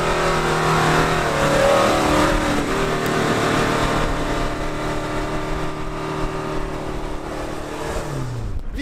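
Off-road vehicle engine, a Land Rover Defender or Jeep Wrangler in sand mode, revving loudly and steadily while climbing a sandy hill in third gear, with a strained continuous drone and pitch shifts near the end.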